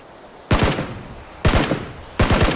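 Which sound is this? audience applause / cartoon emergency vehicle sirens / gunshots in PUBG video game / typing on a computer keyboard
gunshots in PUBG video game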